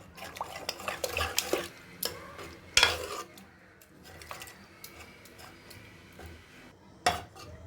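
A metal ladle presses and mashes cooked small-leaf greens with lentils in a pot for a South Indian kootu, giving irregular close scrapes, clinks and soft squelching taps with quiet pauses between strokes.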